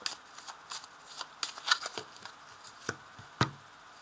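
Tarot cards being cut and shuffled by hand, a close series of soft papery riffles and slaps at an uneven rhythm, with a few sharper snaps and no talking.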